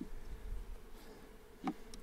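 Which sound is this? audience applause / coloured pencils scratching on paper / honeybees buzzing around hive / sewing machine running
honeybees buzzing around hive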